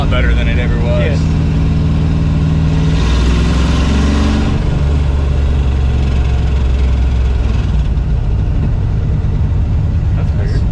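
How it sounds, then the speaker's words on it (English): A 1968 Mercury Cougar engine with an exhaust leak runs loud and close, giving a rough, throbbing idle that rises and falls with light revving, while people talk over it. "it's the fucking exhaust leak"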